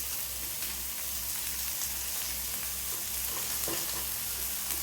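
Masala of Kashmiri red chilli powder, chaat masala and chilli frying in a pan for a semolina and yogurt dosa dish, a continuous close sizzle under a low steady hum, with no voices.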